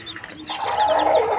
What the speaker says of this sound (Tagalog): Bagong sisiw sa bagong inahin.